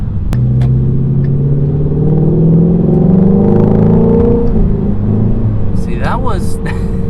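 A Ford Mustang Shelby GT350 sports car engine revs up to around 3,500 RPM with a loud, rising throaty rumble that stays close. It continues at a steady idle-level drone, and a brief chirping sound comes near the end.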